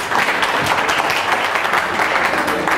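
An audience applauding at a CSIR NET felicitation ceremony, with dense continuous clapping from a crowd that stays loud throughout the short burst.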